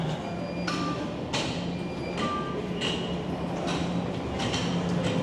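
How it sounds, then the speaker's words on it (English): A subway train passes through Toronto's Queen station, a sustained rumbling roar with periodic clanking bursts as cars go by, moderately loud in an echoing underground space. "Queen subway station."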